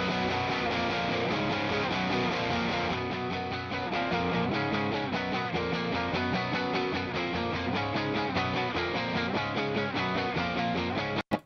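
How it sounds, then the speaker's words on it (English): A Stratocaster electric guitar through a Vox-style amp tone plays a continuous driven rhythm part, strummed chords ringing steadily for about eleven seconds before stopping abruptly, with no voices. "I also recorded a Strat as well. I'm gonna try this Voxy type of tone on it."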